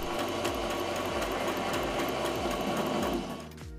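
A sewing machine stitches lining and fashion fabric layers for a Japanese-inspired tabi sock Christmas stocking, a fast steady mechanical whir with a rhythmic pulse, close and loud, slowing and easing off at the end.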